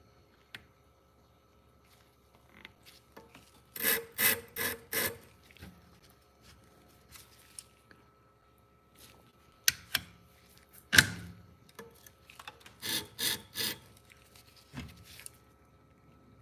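A Twice as Sharp sharpener grinds scissors in several short bursts of close, gritty rasping, grouped in clusters of three or four strokes separated by quiet pauses and light handling clicks.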